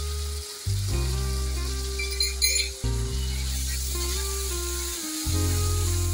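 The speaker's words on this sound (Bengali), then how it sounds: "এবার মশলাটাকে আরেকটু ভালো করে ভেজে নিতে হবে, কাঁচা ফ্লেভারটা যেন না থাকে" Garlic paste and a little ginger paste frying with onions in a pan for a loitta fish dish, giving a steady close sizzle with some brief stirring scrapes, and no voices.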